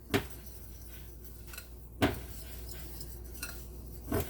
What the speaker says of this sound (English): And all of that just gets mixed really well